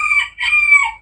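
A rooster crows once, close and loud, in a short two-part cock-a-doodle call with a brief break in the middle, set in a small backyard flock of chickens.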